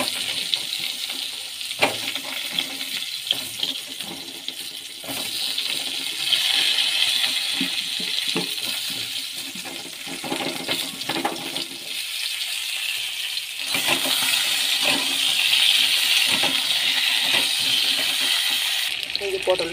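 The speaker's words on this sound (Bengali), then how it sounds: "এবার পটলগুলো ভেজে নেব।" Pieces of pointed gourd (potol) fry in hot oil, giving a continuous hissing sizzle with scattered pops and spatters, while a voice talks intermittently.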